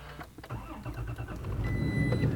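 A Toyota Tacoma engine cranks briefly and catches, then settles into a steady rising idle, heard close and fairly quiet.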